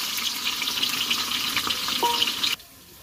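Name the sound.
onion frying in oil with bay leaf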